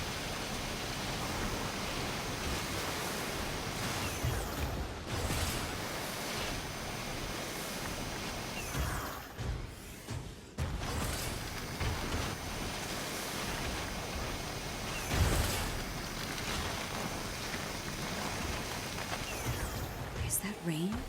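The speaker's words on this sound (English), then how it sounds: "We won't last long in a heavy fall like this. Find cover from the rain on the double." Heavy rain pours down in the video game SYNDUALITY Echo of Ada, a dense, steady hiss that fills the scene and drops out briefly before returning, with people talking over it.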